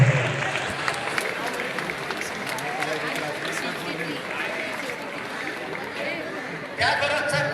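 A standing audience at a college alumni honour event applauds steadily, the clapping dense and sustained under crowd chatter, with a brief swell near the end.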